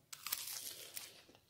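Crisp, close crunching bites into battered fried cauliflower, a few sharp crackling bursts followed by softer chewing, with no talking.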